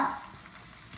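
Moringa leaves frying in a pan on low heat produce a soft, faint sizzle that starts a little stronger and then settles into a quiet, even crackle.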